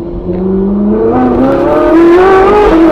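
Ferrari car engine accelerating hard from inside, rising pitch as it revs up through the gears, loud and close with no talking.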